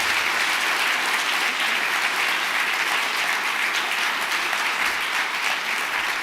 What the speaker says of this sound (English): can we get a round of applause for Marietta as well